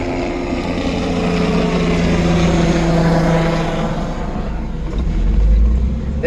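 Helicopter rotor drone near a construction site with work trucks and mini bulldozers, a loud steady throbbing engine hum that swells slightly toward the end, with no talking.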